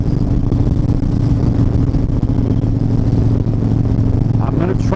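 A Harley-Davidson Dyna motorcycle engine rumbles steadily and loudly throughout, a low continuous throb without a clear launch surge, with a faint voice briefly audible near the end.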